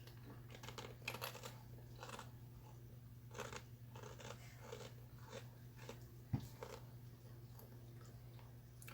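Crunching bites of Doritos tortilla chips being eaten close up, a series of short, crisp crackles spread across the clip over a steady low hum, with one sharper snap near the end.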